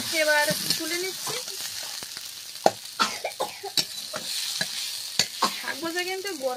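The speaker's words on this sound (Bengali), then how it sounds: "তো শাক ভাজাটা হয়ে গিয়েছে, এবার তুলে নিচ্ছি।" Leafy greens being stir-fried and lifted from a sizzling pan in a home kitchen, with repeated scraping and clinking spatula strokes over a hissing fry; brief voices sound at the start and end.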